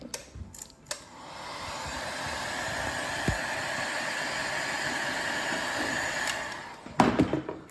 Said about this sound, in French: J'ai mon décapeur thermique.